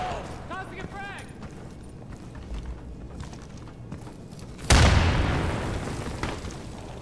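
A frag grenade explodes in the tactical shooter game Insurgency: one sudden loud blast with a rumbling decay, preceded by footsteps and shouted voices.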